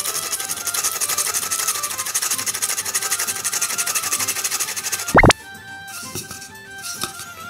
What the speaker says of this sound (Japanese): がっつり削れるヤスリ使っていきます。